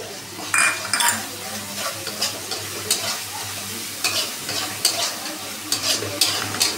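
Tomato paste stirred into a hot pan for a homestyle dharos dish, already seasoned with turmeric, with a steady close sizzle broken by repeated scraping strokes of a spoon against the pan.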